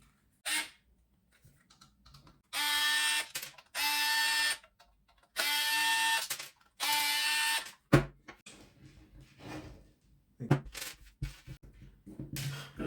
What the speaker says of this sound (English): We need to remove these 4 screws.